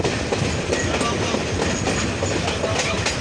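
The 768 Dolanchapa Express rumbles through Sonatala railway station in Bogra with a steady, loud roar of wheels and carriages and a rhythmic clickety-clack over the rails.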